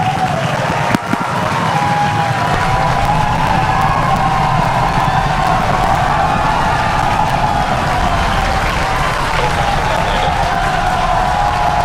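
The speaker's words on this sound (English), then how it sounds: "As indicated by the enormous cheers, we have successfully landed both Falcon Heavy side boosters" A huge crowd cheers, claps and whoops after both Falcon Heavy side boosters land, a loud, continuous roar of cheering sustained throughout.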